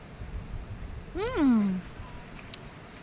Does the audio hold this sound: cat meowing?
yes